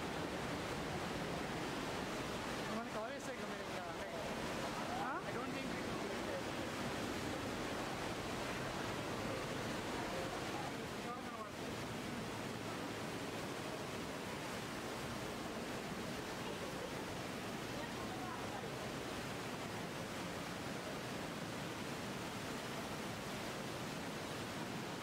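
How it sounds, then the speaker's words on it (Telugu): Zapata Falls, a waterfall in Colorado, roars as a steady, dense rush of falling water that holds at an even loudness throughout with no voices over it. "Zapata water falls is good"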